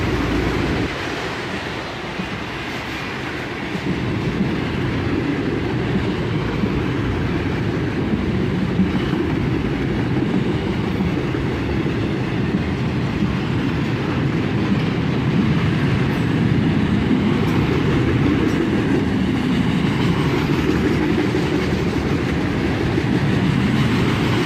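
Freight train accelerating past at dusk, a continuous loud rumble of rail cars with rhythmic wheel clatter and faint squeal, steady and close throughout with no voices.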